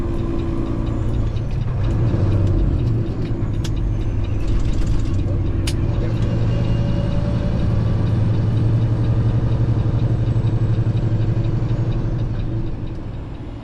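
A Peterbilt 389 truck's heavy diesel engine drones steadily from inside the cab while driving, a loud continuous low rumble with subtle shifts in pitch as gears change, plus a few faint clicks and rattles.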